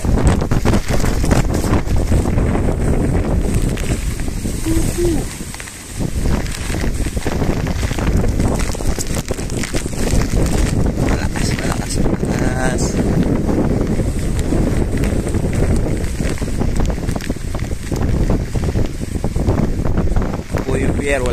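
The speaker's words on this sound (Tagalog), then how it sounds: "Malakas pa rin po ang hangin." Strong typhoon wind during Typhoon Paeng under Signal No. 3 in San Andres, Catanduanes, roars as a loud, continuous gusty rush with a brief lull near the middle, and a voice speaks over it.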